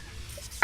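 A single sharp cough from a man with a sore throat, close and sudden at the very end after near silence.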